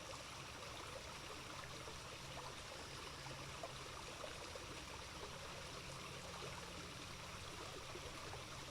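A flowing stream of water runs steadily with a constant, close rushing and trickling texture, no other sounds rising above it.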